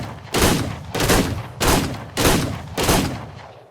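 Gunfire in the video game Ark: Survival Evolved, five loud, evenly spaced shots or short bursts, each a sharp blast with a decaying tail, fired at a wall through a gap.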